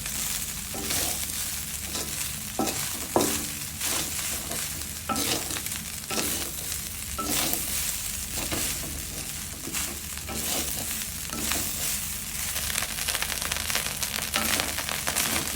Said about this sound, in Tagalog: Lutuin ko hanggang crunchy, maging crunchy itong kanin.